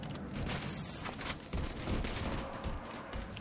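Gunfire during a Halo 4 Infinity Slayer multiplayer match, a continuous rattle of shots and impacts at moderate loudness, fairly distant and blended with game ambience.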